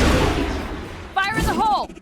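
A grenade blast in the video game Mass Effect Legendary Edition: a loud, broad boom that fades over about a second, after which a voice speaks over the dying rumble.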